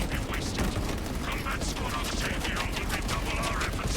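Heavy bolt rifle firing in Space Marine 2, a dense continuous roar of rapid shots and mechanical clatter in a loud battle soundscape with a voice faintly under it.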